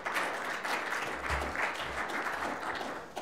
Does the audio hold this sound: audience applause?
yes